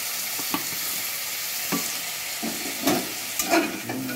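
Chicken sautéed over high heat with a ground spice masala of coriander, cumin and fenugreek, a low background sizzle broken by several close spoon scrapes against the pan.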